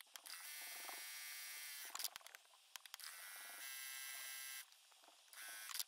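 Sewing machine running in bursts while top stitching along the fold of a fabric panel for a pillow case: steady whirring motor runs of a second or more, broken by short pauses and small clicks, close and clear.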